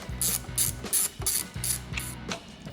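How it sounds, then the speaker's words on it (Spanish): A ratcheting Torx T15 driver loosening screws on a GPS mount on a BMW 1250 GS motorcycle, giving close, loud clicking ratchet strokes in a repeated back-and-forth rhythm, with no speech. "Con una T15 vamos a quitar estos 4 tornillos que tenemos aquí en el GPS."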